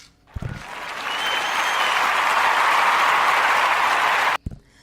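Audience applause at a comedy show, rising quickly into a steady, full wash of clapping that holds for about four seconds before cutting off abruptly.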